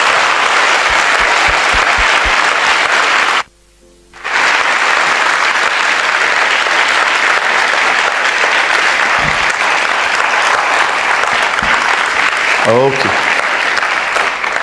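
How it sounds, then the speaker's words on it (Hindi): A church congregation claps loudly for Jesus, a dense, steady wall of applause that cuts out briefly partway through and then resumes at full strength, with a speaker's voice heard faintly over it. "क्या हम सब मिलके प्रभु यीशु के लिए एक जोरदार ताली बजा सकते हैं?"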